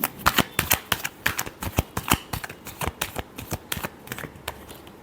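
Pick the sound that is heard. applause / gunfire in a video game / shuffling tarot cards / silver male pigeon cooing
shuffling tarot cards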